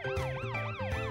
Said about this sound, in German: Noch mehr Sirenen.